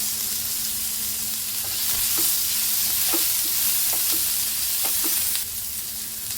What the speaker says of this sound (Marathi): लसूण भाजून घेऊया.